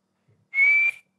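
A person whistles a single steady high note for about half a second, close and clear, with a breathy hiss around it and no talk.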